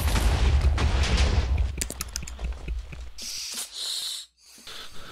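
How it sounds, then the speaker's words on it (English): A creeper blowing up in Minecraft, heard as a burst of crackling, booming noise up close, followed by a brief sharp hiss and a short silence. "Oh, creeper's gonna explode."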